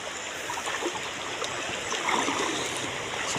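A river stream flows steadily in a broad, even wash of rushing water, close and continuous with no voices.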